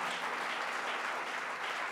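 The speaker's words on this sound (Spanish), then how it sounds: "Podemos dar un aplauso a nuestro Dios" Steady, even clapping from a church congregation, moderately distant and continuous, with no talking over it.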